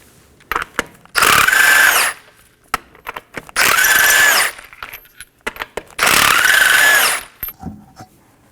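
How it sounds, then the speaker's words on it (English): Three loud bursts from a power tool driving a 21mm socket to remove lug nuts from the front wheel of a 2015-2023 Nissan Maxima, each lasting about a second, separated by short clicks and handling noises. "let's go ahead and remove our front wheel using a 21mm socket"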